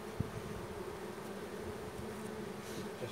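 Angry honeybees swarm around a hive just treated with oxalic acid vapour, a steady close buzzing hum with no voices.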